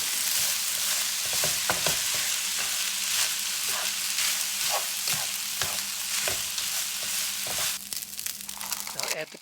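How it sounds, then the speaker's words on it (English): Longganisa fried rice sizzles and fries steadily in a pan with soy sauce, with continuous crackling and occasional stirring scrapes close up, no voices. "Now add the soy sauce and cook for 1 minute."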